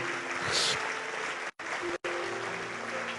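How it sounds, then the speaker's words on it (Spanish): A church congregation claps steadily in a dense, continuous wash of applause during a service, briefly cut by two short dropouts. "Vamos a darle fuerte palmas al Señor en esta noche"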